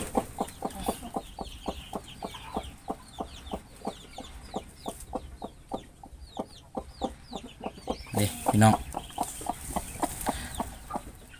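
Hens cluck in a steady, rhythmic series of short calls in a morning farm pen where a hen is incubating duck eggs, with a brief louder squawk near the end and no talking.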